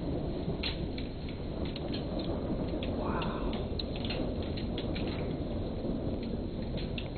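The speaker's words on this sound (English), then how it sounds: "Probably just a real fine hail." Fine hail falls during a lightning storm in Beatrice, Nebraska, making a dense, steady patter with scattered sharper ticks and a brief swell of rumble in the middle.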